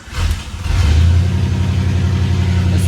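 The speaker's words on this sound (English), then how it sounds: "It's a cold start." A 1987 Oldsmobile Cutlass with an aftermarket exhaust cold-starts and settles into a loud, deep, rumbling idle, close by with no talking.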